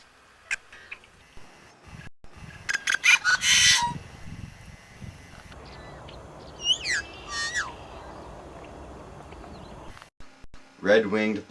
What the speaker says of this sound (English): Yellow-headed blackbird.